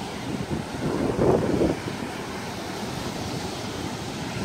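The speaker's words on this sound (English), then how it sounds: "Ocean in motion." Ocean waves wash ashore under steady wind buffeting the microphone on a beach at Palm Beach, Florida, a continuous roar with one swelling surge partway through.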